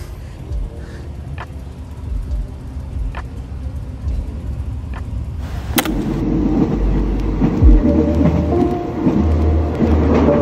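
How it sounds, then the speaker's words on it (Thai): A train rumbles along, first quietly with occasional clicks, then louder and rougher after a sharp bang, with rhythmic rail clatter and steady mechanical roar. "จะเดินทางด้วยรถไฟนะทุกคน"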